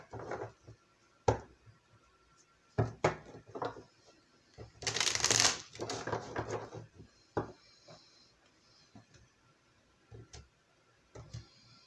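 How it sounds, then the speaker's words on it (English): Tarot cards are shuffled, a burst of rapid riffling in the middle surrounded by scattered taps and clicks of cards being handled, fairly quiet. "Two more shuffles"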